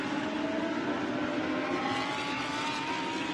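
Lamborghini Super Trofeo race cars tear through the opening lap of a race at the Shanghai circuit, a steady, dense engine roar that holds level throughout with no pauses.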